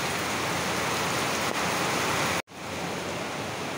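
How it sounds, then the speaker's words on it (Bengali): Heavy rain pours down in a dense, steady hiss that fills the scene, broken by a brief dropout before resuming at full strength. "দেখো কেমন বৃষ্টি নেমেছে, প্রচুর বৃষ্টি পড়ছে"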